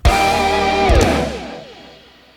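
A final sustained musical chord rings out and fades slowly into a long, smooth reverberant decay until near silence.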